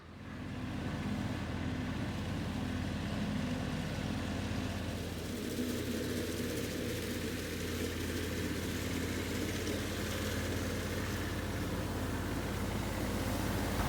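A small Kubota tractor engine runs steadily at idle or low revs, a continuous low rumble close by that holds even throughout with no talk over it.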